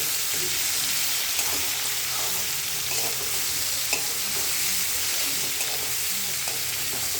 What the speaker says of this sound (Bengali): দেখুন ভাজা ভাজা হচ্ছে।